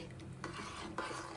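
A spoon scrapes and stirs through mango sambar ingredients with chili powder and salt in a cooking pot, giving a few close, distinct scraping strokes over a steady kitchen background.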